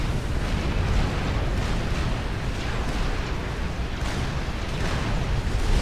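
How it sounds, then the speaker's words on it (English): Battleship cannon fire pounds a defensive line in the strategy game Supreme Commander: Forged Alliance, a dense, continuous rumble of overlapping explosions and booms without pauses. "as the battleship opens up on it"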